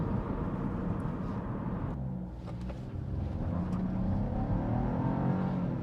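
A 2025 Buick Envista Preferred with a 3-cylinder engine making 167 lb-ft of torque accelerates, its engine drone heard from inside the cabin, steady at first, dipping briefly, then pulling strongly again.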